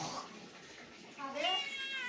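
A house cat meows close by in a short, rising-then-falling call, with a person's voice sounding faintly in the background.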